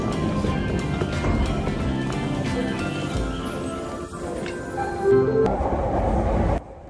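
A train rumbles and clatters nearby as it pulls in, with a brief squeal of wheels before the noise cuts off.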